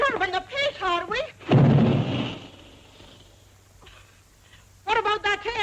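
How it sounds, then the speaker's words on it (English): A single deep, rolling air gun boom erupts between lines of dialogue and fades slowly into a quiet rumble, with people talking before and after it. "What about that air gun of yours booming all day and night?"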